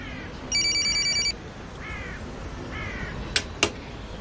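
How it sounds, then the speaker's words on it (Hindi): A mobile phone ringing with a bright electronic ringtone in short repeated pulses, joined by a few crow-like caws and two sharp clicks near the end, over a quiet background with no speech. "एमिर का फोन है, उठा लो।"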